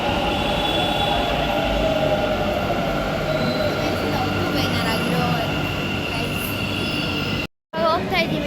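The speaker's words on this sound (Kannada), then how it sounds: "ಇವಾಗ ನಾವು ಮೆಟ್ರೋ ಕಾಯ್ತಾ ಇದ್ದೀವಿ" A metro train rolls into a station with a loud, steady rumble and high wheel squeal, continuing for several seconds before a brief cut, then resuming.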